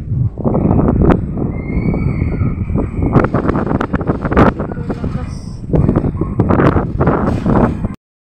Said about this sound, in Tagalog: pakinggan natin yung hangin in this video